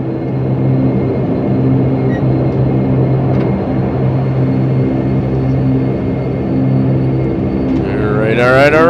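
A Majestic Dash 8 Q400 turboprop in a flight simulator rolls onto the runway, its engines holding a steady, loud droning hum with layered tonal bands that swell slightly near the end.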